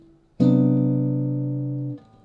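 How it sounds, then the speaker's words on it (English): Jazz guitar sounds a single sustained chord from a sus4-voiced 2-5-1 comping phrase, struck once cleanly and ringing close and alone for about a second and a half before being damped. "and I play a 2-5-1, including the 5-7 Sus4, it would sound like this"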